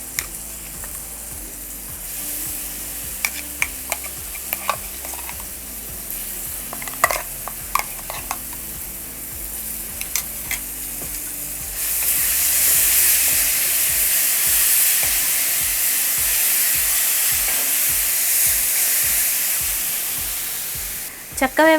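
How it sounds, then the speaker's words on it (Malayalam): Roasted ground coconut paste is stirred into jackfruit curry frying in a pan. A spoon scrapes and stirs in a steady rhythm under a continuous sizzle that grows louder and hissier partway through, with no talking. "ഇതിലേക്ക് ഇനി തേങ്ങ വറുത്തരച്ച് വെച്ചിരിക്കുന്ന അരപ്പ് നമ്മൾ ചേർക്കാം"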